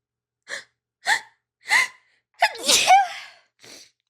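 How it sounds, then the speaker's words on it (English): A few sharp inhaling gasps build up, then a loud, close sneeze bursts out, followed by a short breath. "I have to sneeze again."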